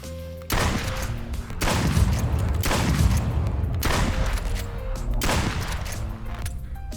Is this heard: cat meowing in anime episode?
no